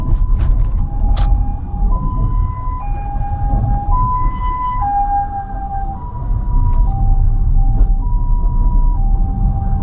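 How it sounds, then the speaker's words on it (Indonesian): A two-tone ambulance siren wails steadily, alternating high and low notes over loud road and engine rumble, fairly close, heard from a car giving way on a main road in Indonesia. "Wah, ini ada ambulan, kita beri jalan."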